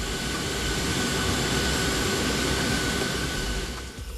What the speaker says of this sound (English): A transmission pipeline rupture often can make a sound like a jet engine.